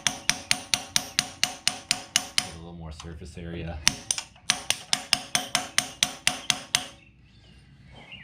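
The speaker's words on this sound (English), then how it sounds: "Just grazed my hand with the hammer there" A hammer strikes metal in quick regular bursts, about a dozen sharp close blows, a short pause with a brief spoken remark, then another run of strikes, while an engine is installed in a 1993 Ford F150 SVT Lightning with a 351W.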